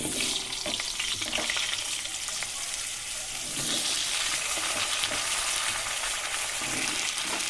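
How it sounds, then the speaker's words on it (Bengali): Potatoes frying in hot oil left over from frying fish, with a little turmeric and salt, a loud continuous close sizzle under occasional stirring scrapes. "মাছ ভাজার তেলে ভেজে নেব আলু"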